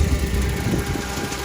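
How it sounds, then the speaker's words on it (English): Bush hog brush mower running, a steady low engine drone with a rough mechanical rumble, close and continuous without talk. "running the bush hog or brush hog, whatever you want to call it, the world's biggest lawnmower"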